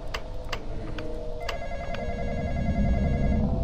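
Telephone ringing in the Roblox game The Intruder, a repeated electronic ring with sharp tonal chirps, heard over a rising low rumble of game ambience with no voices.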